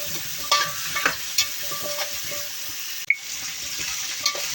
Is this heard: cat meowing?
no